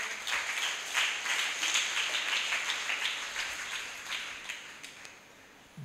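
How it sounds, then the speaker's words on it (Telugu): A church congregation bursts into applause during a sermon; dense clapping swells, then gradually thins and fades toward the end. "అందరూ ఒకసారి చప్పట్లు కొడదామా?"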